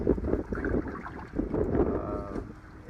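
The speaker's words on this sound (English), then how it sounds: "you can see here probably the wind blowing by" Wind gusts blowing across the Parker River around a paddler in a Nova Craft Trapper canoe near a cement bridge, a steady low rushing roar with buffeting on the microphone and faint water movement.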